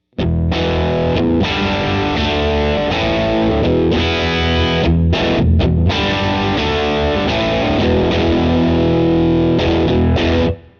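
Loud, heavily distorted electric guitar chords ringing out through a cranked Vox AC30 amp, with a few short pauses between strummed phrases.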